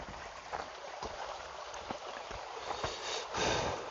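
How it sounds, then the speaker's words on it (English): Water flowing in a faint, continuous rush with a steady broadband hiss, a few soft ticks and splashes scattered through it, and no voices. "I would like to sleep with the sound like that, you know, the water sound."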